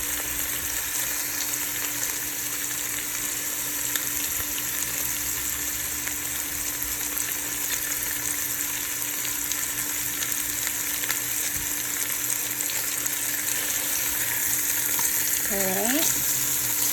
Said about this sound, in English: So I have them in the Dutch oven, braising,